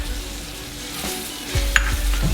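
Chicken and dried crayfish sizzle in a pan as they are stirred. A soft hiss swells into louder frying, with a spatula scraping and clicking up close.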